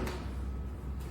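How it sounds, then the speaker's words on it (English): The front door of an UltiMaker Method XL 3D printer swings shut with a brief soft knock, set against a steady broadband hum, with a second faint bump near the end. "So let's close the door."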